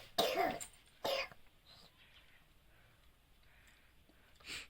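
An elderly mother eating idli at home coughs twice in quick, close, sharp bursts, followed by quiet room sound and a faint noise at the end.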